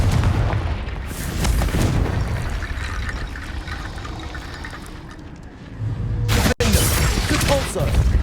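A Confringo blasting spell in the Hogwarts Legacy video game lands as loud booming blasts over rumbling game effects, with a sharp burst and cut near the end.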